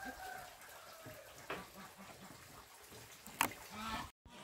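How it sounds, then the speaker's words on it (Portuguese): Chickens clucking faintly on a small farm where a duck is also kept, with soft scattered calls throughout and one brief louder burst near the end. "Só tem aqui dentro mesmo uma marreca e algumas galinhas."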